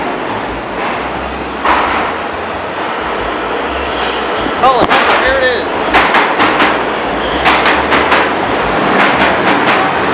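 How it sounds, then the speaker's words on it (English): New York subway train arriving at a metro station: a rumbling approach with metallic rail clanks, squeals and rhythmic clacks amid echoing platform noise, with people talking nearby. "Train's coming from that side, you can hear it."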